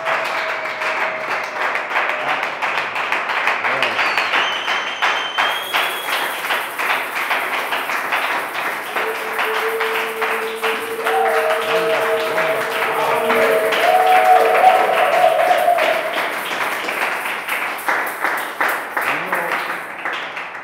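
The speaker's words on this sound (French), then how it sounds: "Est-ce que tu peux acclamer pour le Seigneur?" A French-speaking church congregation applauds and cheers for the Lord. Clapping runs continuously and rhythmically throughout, with scattered voices and a sustained musical tone underneath, swelling slightly toward the later part.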